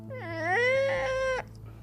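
A human voice imitates a cat being stepped on: one loud, rising, strained yowl lasting over a second, then cutting off abruptly.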